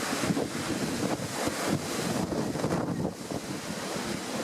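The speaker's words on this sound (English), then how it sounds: "Yeah, it is bloody windy." Strong wind buffets a microphone outdoors beside a ploughed potato field, a loud continuous rumbling roar with gusty surges and no talking.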